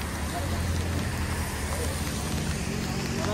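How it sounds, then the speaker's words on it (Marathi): Steady, loud rain roars close by as a dense wash of noise over a procession carrying a palanquin on foot, with a low rumble underneath throughout. "पाऊस आलाय हे बघा"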